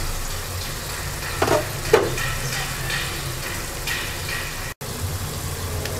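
Hilsa fish curry with tomato simmers and sizzles in a pan over medium heat, a steady close crackle with a couple of brief clinks from stirring and one sudden short break.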